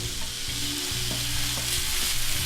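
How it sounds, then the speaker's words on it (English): Onions frying in a pan, a steady bright sizzle with a low appliance hum beneath and occasional soft stirring clicks, close and continuous with no talking. "the onions have fried"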